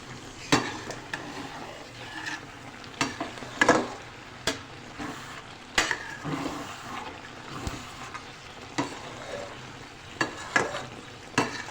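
Shalgam palak gosht with chicken pieces and green chillies frying on high heat in a pot, a steady sizzle broken by repeated scraping stirs of a spoon against the pan, close up with no talking.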